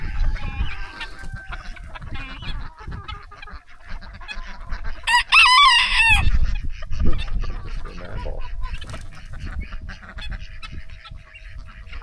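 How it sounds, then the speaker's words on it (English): Geese and chickens in a garden honk and cluck at close range, with a burst of loud honking midway over scattered clucks, rustling and footsteps. "All these birds are staring at you, Matt."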